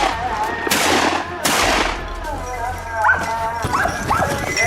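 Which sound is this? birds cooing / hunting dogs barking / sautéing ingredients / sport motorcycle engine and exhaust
hunting dogs barking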